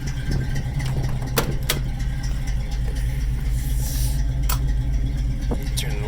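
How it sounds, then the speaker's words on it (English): A 1977 Ford Bronco engine idles through a dual exhaust with a steady low rumble, close by, with a few sharp clicks and knocks over the drone. "Has a dual exhaust system on it, as you can tell."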